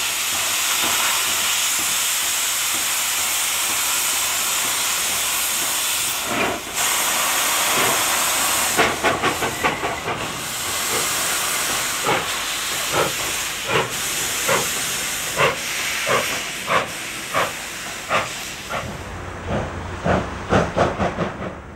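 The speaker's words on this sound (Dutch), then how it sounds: "als er met een lichtvoetige lok moet worden aangezet" A steam locomotive hisses steadily, then begins chuffing in slow, evenly spaced exhaust beats that grow more distinct as it starts off and pulls away.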